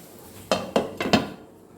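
A spatula scrapes and knocks against a cooking pan while stirring beetroot thoran, four distinct metallic clacks in a steady rhythm, close and alone with no talk.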